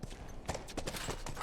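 Horse hooves in the video game The Last of Us, a soft, fairly faint clip-clop of several steps in an uneven rhythm over low background noise, with no one speaking.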